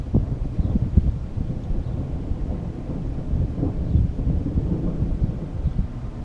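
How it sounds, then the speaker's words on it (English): Thunder rumbles through a dark storm sky, a low, continuous roll lasting several seconds with rough wind-like buffeting on the microphone and no voices. "That was thunder, if you could hear it. Not wind, thunder."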